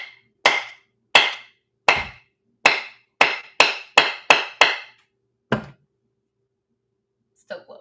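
Sharp hammer blows on a coconut, about nine strikes spaced unevenly, then a pause, one more hit and a faint later knock.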